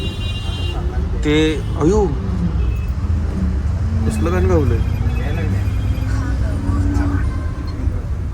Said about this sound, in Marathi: पुढं बघा किती ट्रॅफिक मध्ये अडकलोय आम्ही राव.